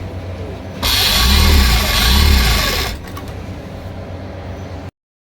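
A sewing machine stitching an angrakha neckline runs in one loud steady burst of about two seconds with a rhythmic whirring hum, then the fabric is handled quietly before the sound cuts off.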